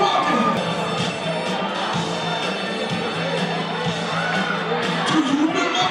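A crowd cheers and shouts at a community event, a dense, moderately loud wash of overlapping voices and whoops with a few louder yells near the end.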